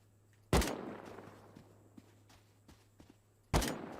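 Two sharp gunshots in the survival video game Rust, spaced about three seconds apart, each a loud close crack with a short decaying tail, with faint footsteps and small clicks between them.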